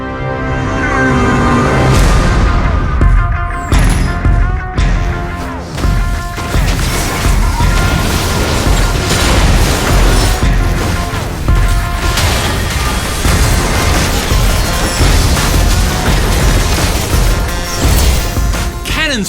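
Cannon fire in the Ultra Rapid Fire game mode of League of Legends: Wild Rift: repeated heavy booms and crashes over a dense, loud bed of music and effects, with a voice briefly speaking early on.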